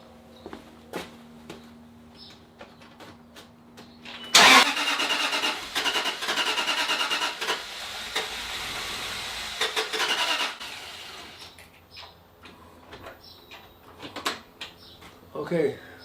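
A Land Rover engine cranks after a fuel injector swap, churning in a long loud burst without catching, with quieter clicks and mechanical noises before and after.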